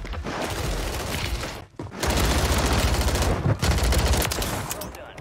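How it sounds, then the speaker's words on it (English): SMG fire in Call of Duty on Rebirth Island comes as loud, sustained rapid bursts with two brief pauses, dense and close, with talk mixed in. "Yo, this SMG go crazy."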